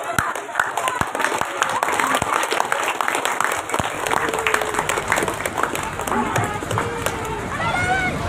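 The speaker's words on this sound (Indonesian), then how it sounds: "beri tepuk tangan yang meriah." Audience at a school theatre performance claps enthusiastically and steadily throughout, loud and close, mixed with children's shouts and excited voices.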